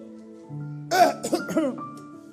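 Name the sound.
imitated coughing and throat clearing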